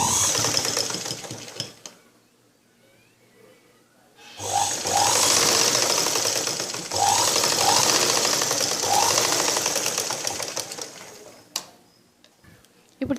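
A sewing machine stitches a blouse in close, rapid mechanical rattling bursts, with pauses between runs and one long stretch of steady stitching, no talk.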